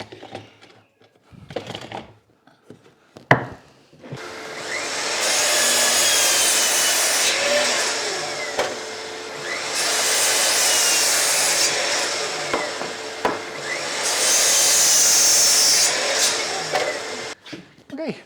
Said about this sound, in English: we are now done on the miter saw